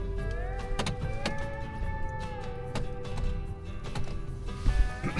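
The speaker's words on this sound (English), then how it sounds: "I'm gonna go ahead and put it in four-wheel drive." A truck on an off-road wheeling trail at Wolf Ridge shifts into four-wheel drive: a steady electric motor whine with a few sharp clicks and knocks, fairly close, heard over a low rumble with no talking.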